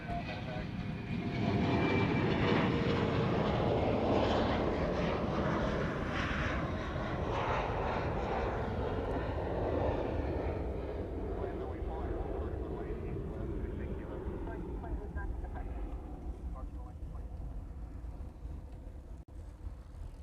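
Boeing 787 Dreamliner airliner arriving at Honolulu airport, a broad roaring jet noise that swells early and slowly fades over twenty seconds at a distance.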